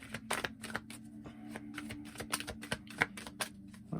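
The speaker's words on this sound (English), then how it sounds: "We're going to pull some energy oracle cards here." Energy oracle cards are shuffled close up in quick, dense riffling flicks that repeat steadily for several seconds with no talking.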